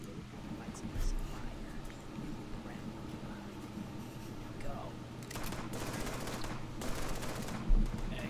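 Suppressing gunfire in a Henry Stickmin game crackles in rapid bursts, strongest in the second half, over a low steady hum, with a person talking quietly under it.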